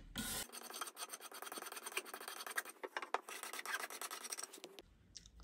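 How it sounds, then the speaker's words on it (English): A hand scraper works along a wooden bass neck in a luthier's workshop, quiet rhythmic rasping strokes close up for several seconds. "you can also use a scraper like this, which works really nicely"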